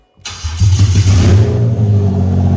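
A Toyota 2JZ-GE VVT-i engine swapped into a Lexus IS200 cranks and fires after a short silence, then settles into a loud, steady, low idle close by.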